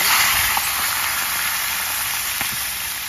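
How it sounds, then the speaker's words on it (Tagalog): Fish sizzling in hot oil in a pan, a steady broadband hiss throughout with a couple of faint pops; no talking. "prito na lang tayo ng isda"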